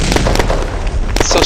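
A tank explodes in Red Crucible Firestorm, a loud crackling burst of blasts and pops packed into a short moment.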